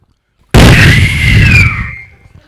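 Guns fired at a rally in Rajahmundry: one sudden, loud, close blast that holds for about a second with a crackling rumble, then fades into quiet.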